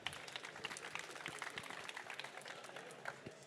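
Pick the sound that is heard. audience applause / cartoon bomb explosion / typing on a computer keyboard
audience applause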